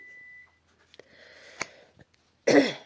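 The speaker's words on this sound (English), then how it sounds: "now my alarm's going off for my tea, so that's good news, if it'll just stop beeping" A steady electronic beep tone from a tea timer sounds briefly, followed by faint rustling, a sharp click, and a short cough-like burst near the end.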